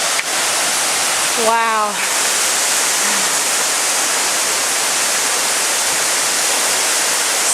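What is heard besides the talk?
Skookum Falls horsetail waterfall flowing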